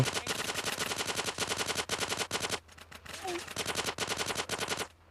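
Rapid bursts of automatic machine gun fire in GTA San Andreas, in long rattling volleys, loud and close, broken by a short pause with faint background noise.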